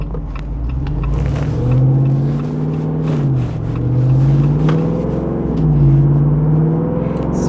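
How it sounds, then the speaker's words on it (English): A Jeep Wrangler Rubicon 392 with a Hemi V8 and its exhaust set to loud mode revs in a steady deep rumble that swells and eases in three broad waves, close and loud with no talking. "just leave the exhaust in loud mode."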